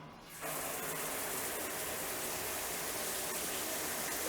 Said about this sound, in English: And there's a nice big waterfall shower.